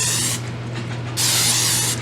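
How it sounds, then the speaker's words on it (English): Cooking spray hisses into a cake pan for a Fruity Pebbles cake in two close, loud bursts, the first short and the second longer after a brief pause. "The first step is to spray the pan."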